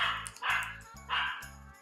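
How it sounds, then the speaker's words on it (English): Dog barking indoors, several short bursts of barks with brief pauses between them, fairly close and loud, with no talking over them. "Excuse the dog barking in the background."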